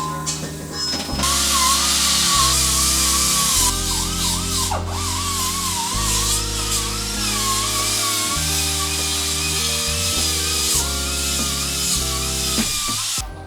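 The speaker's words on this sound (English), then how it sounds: "making sure that we sand everything where the lower pivots are going to actually weld to the frame" A sander grinds paint and crud off a Toyota Tacoma truck frame where lower suspension pivots will be welded, a steady loud whirring drone with wavering pitch that runs for the whole stretch.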